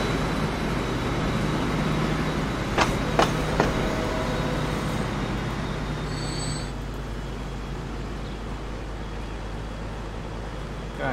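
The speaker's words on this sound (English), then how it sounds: "I think that's our first diesel locomotive actually" Diesel locomotive running in Transport Fever 2, a steady low rumble carrying on throughout with a couple of brief sharp clanks near the start and a faint high tone midway.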